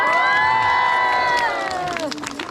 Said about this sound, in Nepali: ताली बजाउनु भयो धेरै मजा आयो